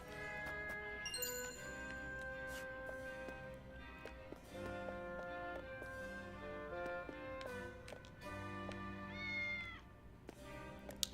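A cat meows repeatedly in the tactical role-playing game Triangle Strategy, short game-character calls set over layered background music with chiming tones and hoof-like clopping, fairly quiet and continuous.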